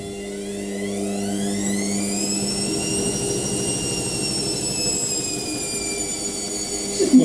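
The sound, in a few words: Indesit IWME146 integrated washing machine pump running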